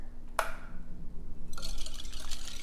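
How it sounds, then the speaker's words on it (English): Boiling water pours into a measuring dish after a brief clink, a steady liquid splash filling the vessel close up in a quiet kitchen. "The safest way to add boiling water is to pour it into another dish for measuring."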